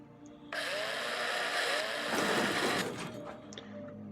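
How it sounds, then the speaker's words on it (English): A drill whirs steadily in the sci-fi space survival game Breathedge, starting abruptly and holding a continuous mechanical whine before tapering off near the end. "I started pointing a drill in my face for some reason"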